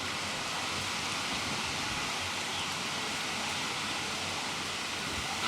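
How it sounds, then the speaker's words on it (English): Heavy rain at EPCOT blows onto a balcony as a steady, dense hiss of wind-driven downpour with no break. "the rain is blowing into the balcony"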